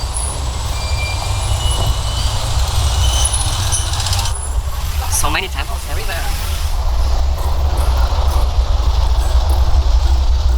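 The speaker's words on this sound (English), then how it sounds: "This is railway station." Outdoor ambience at a railway station, a steady low rumble of trains and machinery with hissing bursts near the middle, and a person speaking briefly over it.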